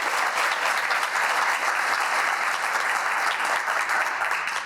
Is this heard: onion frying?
no